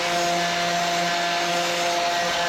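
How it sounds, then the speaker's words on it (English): An angle grinder stripping weld-through primer from a steel quarter panel on a Nissan Gloria; a loud, steady, whining grind with a constant pitch, heard up close and uninterrupted by speech. "I wanted to grind away the weld through primer where I'm going to tack weld this piece on."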